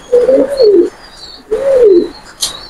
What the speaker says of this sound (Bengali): এটা হলো মাদি কবুতর